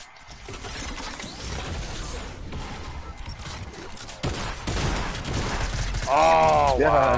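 Rapid gunfire crackles through a chaotic online shooter firefight, dense and continuous under other game effects, with a louder burst near the end where a voice talks over the action.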